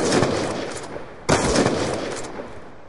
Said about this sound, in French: Il en a eu marre, au bout d'un moment, il a carrément sorti le fusil à pompe